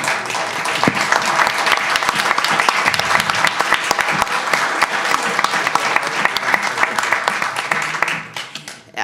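An audience applauds the project manager at a closing session, a dense, steady roar of clapping that fills the room for about eight seconds before tapering off.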